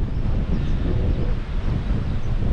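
Strong, steady wind buffets the microphone with a constant low roar and rumble, loud and close throughout, on a cliff edge at Agden Rocher.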